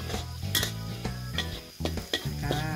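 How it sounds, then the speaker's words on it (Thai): Garlic stir-fried in a pan for a Thai three-chili pork dish, with a utensil scraping and clinking against the metal in several sharp strokes over a steady low sizzle, close and alone. "แล้วก็ผัดกระเทียมให้หอมก่อนนะคะ"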